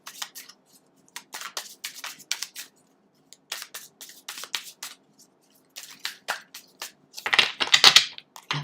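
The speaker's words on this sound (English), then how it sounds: "I need to reshuffle this deck." A tarot card deck is shuffled in quick, irregular bursts of riffling and slapping cards, close and crisp, with short pauses between rounds and a denser flurry near the end.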